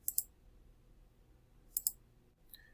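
Two quick mouse clicks are heard, then another pair about 1.7 seconds later and a faint final tick, all crisp and close against near silence.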